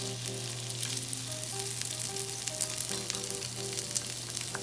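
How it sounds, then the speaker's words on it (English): Pork belly rolls wrapped around green beans and carrots sear in a hot frying pan, giving a steady, close, loud sizzle that never lets up, with no talking. "it's time to sear the pork belly rolls in a hot frying pan"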